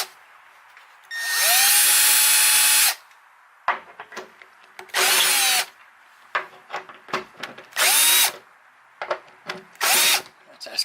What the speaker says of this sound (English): I gotta drill a hole for that thing.